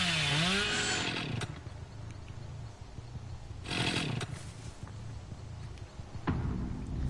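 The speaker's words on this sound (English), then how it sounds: "I can just fucking run around the map with the chainsaw all day." The Hillbilly's chainsaw in the game Dead by Daylight: a sustained engine drone with revving surges near the start and in the middle, close and fairly loud, with no voices over it.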